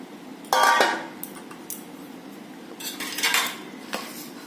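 A spoon scrapes and clinks against a small steel plate while jackfruit and raw mango pickle is mixed, producing two bursts of metallic clatter with quieter scraping between them, close by and with no voices.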